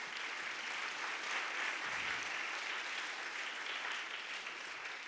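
Church congregation applauding loudly and steadily for about five seconds, a dense sustained wash of many hands clapping with no voices over it.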